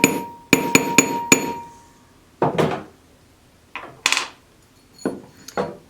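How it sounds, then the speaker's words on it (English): Small hammer giving sharp metallic taps to push a ring's tube setting edge down over a stone with a jewelry kit; a quick cluster of four close taps, then several separated single strikes. "I like to give it one or two more taps just to make sure that that edge is pushed down all"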